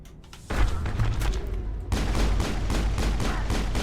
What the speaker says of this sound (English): What was I shooting? I was shooting at my own dead teammate.